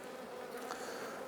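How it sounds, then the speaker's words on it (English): Honey bees in a Langstroth hive give a steady, dense buzzing hum, close and continuous, with no voices. "still plenty of bees here"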